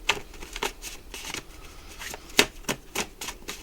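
Playing cards from two decks being handled and drawn give quick, crisp flicks and papery snaps in an uneven rhythm, close and fairly loud.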